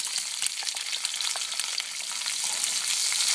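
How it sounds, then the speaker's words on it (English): Close, crackling sizzle of onions and peppers frying and caramelizing in a pan for a Durban curry, with light stirring scrapes, growing slightly louder toward the end. "And you're just going to fry them off and sort of caramelize them."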